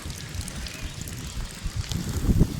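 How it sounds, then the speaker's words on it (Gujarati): Steady outdoor wind rumbles and buffets a nearby microphone, with low gusty noise throughout and no talking. "પવન ને પવન ચાલુ થઈ ગયો"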